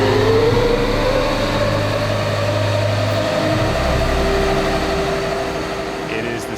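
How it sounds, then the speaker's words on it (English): A monster power-generating engine rated at over 13 megawatts starts up with a loud, deep mechanical drone, its steady low hum and rising tones building as it turns over. "It is exciting to hear one of these engines fire up."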